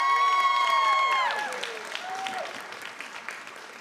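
An audience at a school board meeting bursts into applause with cheers and a few high whistles at the start, the clapping tapering off to scattered claps.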